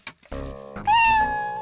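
A domestic cat meows once, a drawn-out, wavering cry close by, preceded by brief soft rustling.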